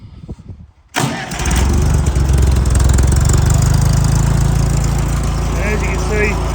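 A tractor engine, given a little choke, cranks and catches after a brief quiet moment, then settles into a loud, steady running rumble close by.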